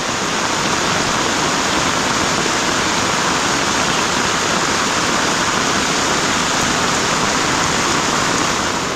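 Heavy storm rain pours down in a steady, dense, loud hiss that continues unbroken throughout, with no voices.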